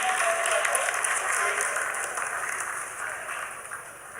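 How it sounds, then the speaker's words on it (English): Steady, sustained applause fills the mission control room during the Chandrayaan-3 lunar landing's vertical descent phase, a broad wash of many hands clapping that slowly eases. "Lot of applause"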